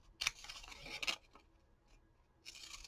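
Two crisp snips of scissors cutting out paper pictures for a collage, close and quiet, followed by a softer rustle at the end.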